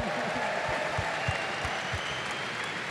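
Crowd applauding continuously at an EU LCS esports finals match between Fnatic and G2 eSports, a dense, steady wash of clapping filling the hall at even loudness throughout.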